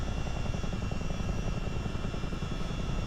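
Steady, loud rotor and turbine roar fills the cabin of a CH-47 Chinook helicopter in low-level flight, a continuous broadband drone with no pauses.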